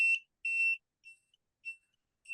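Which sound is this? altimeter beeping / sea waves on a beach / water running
altimeter beeping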